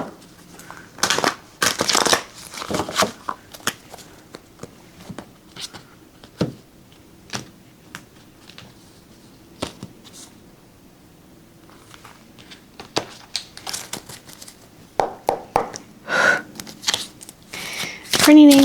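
Tarot cards shuffled by hand during a reading, repeated soft riffles and papery slaps in irregular bursts, close up, interleaved with stretches of quiet talking.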